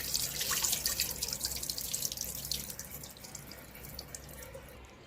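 Lightly roasted moong dal being rinsed in water, with running tap water and sloshing, splashy washing that is loudest at the start and then eases off into softer trickling.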